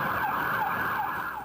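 Wailing police car siren on a vehicle driving with lights and sirens to a shooting call, a rapid rising-and-falling tone cycling about three times, loud and close.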